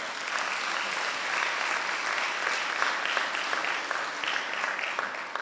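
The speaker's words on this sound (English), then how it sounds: "Please applaud them." Steady applause from a crowd, dense and continuous for several seconds, fairly distant with no break.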